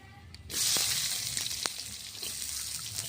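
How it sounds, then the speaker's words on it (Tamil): Chopped onions and green chili sautéing in a pan over a wood stove, a bright sizzle that bursts in after a quiet start and keeps hissing steadily, with a few scraping stirs. "இப்போ வெங்காயம் வந்து நல்லா ப்ரௌன் கலரில் வர்ற வரைக்கும் நம்ம வந்து வதக்கி விட்டுறணும்"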